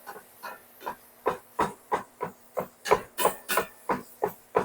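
Ground beef sizzles in a pan over medium heat for stuffed peppers, with a faint steady hiss under a series of about fifteen regular scraping, mashing strokes spaced roughly every third of a second.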